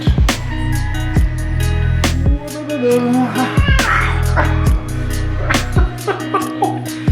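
A domestic cat meows several times, fairly close and clear, over loud rhythmic music with a thumping beat.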